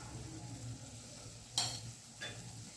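Chicken masala being stirred in a frying pan for a Chettinad chicken leg piece gravy: a soft steady sizzle with two brief scraping strokes of the spoon, faint and close.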